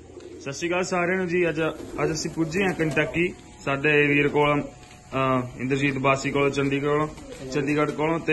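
Pigeons coo in a backyard loft of Malwai pigeons in the USA, a soft low murmuring beneath a man's steady, close talking that runs through the whole stretch.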